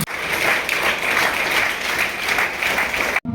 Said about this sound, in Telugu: ఒకసారి బిగ్ క్లాప్ ఇద్దామా